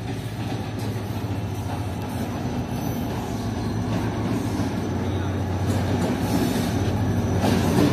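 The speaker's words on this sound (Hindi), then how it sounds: "ये मेरे सामने से आ रही है कराची लाहौर के दरमियान चलने वाली 16 डाउन कराची एक्सप्रेस।" 16 Down Karachi Express running between Karachi and Lahore, led by an HGMU diesel locomotive, rolls past at Raiwind Junction with a steady heavy rumble of wheels and wagons that builds slightly louder toward the end.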